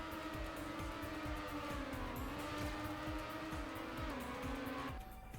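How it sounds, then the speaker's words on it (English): A car engine in the video game Trackmania Nations drones steadily at low pitch with a rough, chugging pulse on a dirt track, joined by higher whining tones, loud and continuous until it drops off near the end. "I can hear the engine just fucking chug."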